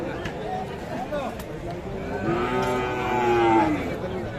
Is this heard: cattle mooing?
yes